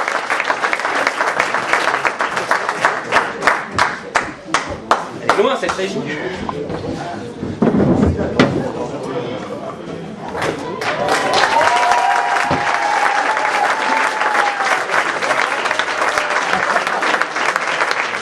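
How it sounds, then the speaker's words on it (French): A theatre audience breaks into loud, dense applause, with rhythmic clapping at first, a short lull where someone speaks, then a renewed burst of clapping that carries on steadily to the end. "vous applaudissez, faites un triomphe à ceux qui sont derrière"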